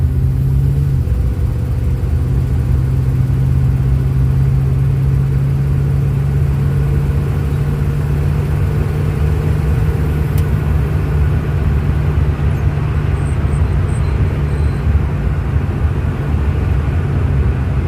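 A Ford Fairlane rescued from a scrapyard drives down the road on a low tank of gas. Its engine drones in a steady, loud low rumble throughout, and no one talks over it.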